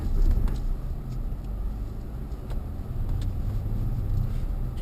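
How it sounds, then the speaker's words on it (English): A Land Rover crawls slowly in first gear over a bumpy, rocky off-road track at Eastnor Castle, a steady low engine rumble with faint scrapes and knocks, close and continuous, with no talk. "It's a really bumpy, rocky piece of track, so just want to let the car come down slowly."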